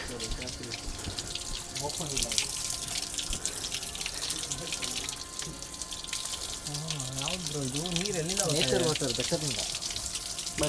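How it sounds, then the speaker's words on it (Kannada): Hill stream water rushes loudly and steadily throughout near Kottiyoor temple while people talk over it. "ಬೆಟ್ಟದಿಂದ ಬರ್ತಾ ಇರೋ ನೀರು, ನೇಚರ್ ವಾಟರ್"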